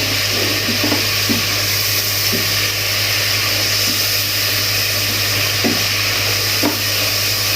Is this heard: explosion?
no